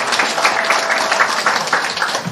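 An audience claps for a secretariat team at a community gathering: a dense, steady patter of many hands, fairly close and sustained throughout, with no voices over it.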